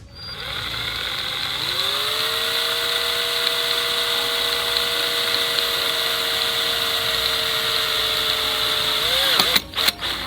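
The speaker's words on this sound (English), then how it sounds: "make sure it's all lined up correctly, and then start drilling" Power drill boring holes for mounting a Nest doorbell, a steady loud whine that spins up and holds for several seconds, then winds down and stops with a few clicks and knocks at the end.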